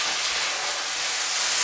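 Vermouth hits a hot risotto pan in a loud, steady sizzle as the alcohol burns off, a continuous close hiss with no talking.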